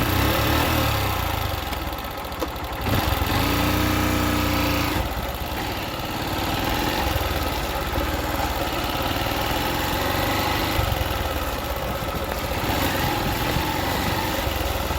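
An XR 150 motorcycle on a rough back-country trail drones steadily close by, its engine note rising and falling with throttle and bumps, and wind rushes across the microphone throughout.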